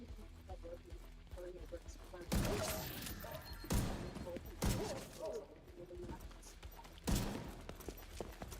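Gunshots in the shooter game The Division 2, several loud, sharp cracks spaced a second or more apart, with people talking quietly underneath.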